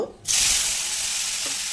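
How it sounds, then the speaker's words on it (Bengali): Whole cumin seeds, cardamom pods and a bay leaf drop into hot oil on a low flame, bursting into a loud, steady broadband sizzle that holds for over a second with no talking. "একটা তেজপাতা হাফ চা চামচ গোটা জিরে লো ফ্লেমে কয়েক সেকেন্ড ভেজে নেব"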